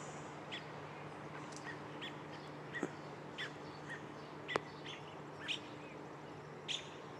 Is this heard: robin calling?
yes